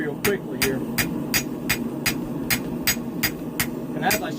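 A blacksmith's round-faced hammer strikes a hot tanto knife blade on an anvil while drawing out the edge taper, about a dozen sharp, ringing blows at a fairly regular rhythm over a low background hum.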